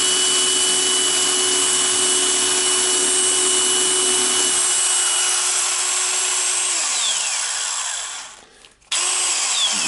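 A DeWalt DCD995 cordless drill with a corroded battery terminal whirs loudly and steadily up close, its motor tone dropping partway through before cutting out briefly near the end and restarting.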